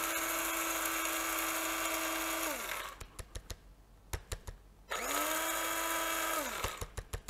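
A Magio electric coffee grinder grinds coffee beans in two long, loud bursts of motor whine. A pause full of rattling and tapping separates them, and more taps follow at the end.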